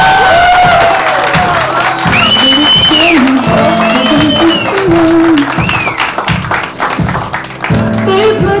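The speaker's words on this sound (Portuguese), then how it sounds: "Vamos aplaudir mais forte, eles merecem." A wedding crowd cheers and claps for the newly married couple, loud sustained applause with whoops and shouts, while a voice talks over the noise.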